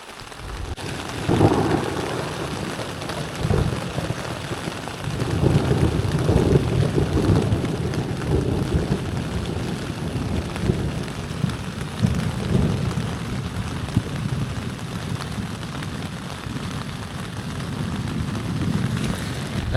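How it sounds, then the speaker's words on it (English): Thunderstorm over a Newfoundland fjord: steady heavy rain with low rolling thunder booms, a continuous broad wash heard outdoors, without speech. "And that is the sound of thunder."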